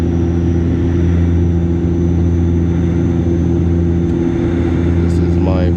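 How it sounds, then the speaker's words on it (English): Steady loud drone of an airliner cabin during descent into Toronto, with engine rumble and airflow hum throughout and a brief tonal chime near the end. "About to land in Toronto."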